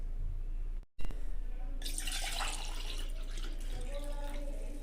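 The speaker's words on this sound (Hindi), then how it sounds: "अब मैं माँ के लिए नारियल पानी निकाल देती हूँ।" Coconut water pours out of a freshly cut coconut, a continuous trickling splash after a brief dropout, steady and close with faint background noise.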